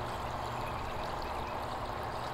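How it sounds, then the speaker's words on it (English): Liquid pours steadily from a bucket into a catch basin during gold and silver recovery from plastic IC chips, a continuous splashing stream heard alone and close. "then pour off the liquid. And I'm pouring into a catch basin"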